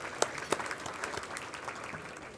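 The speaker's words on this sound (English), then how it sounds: "Give yourselves a round of applause just for looking so good." An afternoon audience at a college hall of fame event claps in steady, dense applause with a few sharper claps standing out, a full crowd sound lasting the whole stretch without voices.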